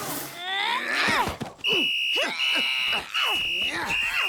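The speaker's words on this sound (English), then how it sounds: "3 full whistles and 2 semis means stop fighting" A shrill cartoon whistle sounds in a run of steady, piercing blasts, several long and a couple shorter, near and loud, breaking into a scene where animated voices are heard just before.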